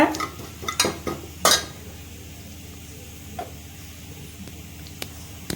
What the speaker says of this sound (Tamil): பாருங்க பொரியுது பாருங்க